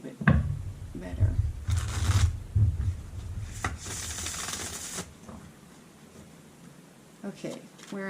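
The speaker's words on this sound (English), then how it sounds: "Let's shuffle a little bit better." Tarot cards being shuffled by hand, with soft papery riffles and rubbing bursts that come and go, and quieter stretches of low handling noise between them.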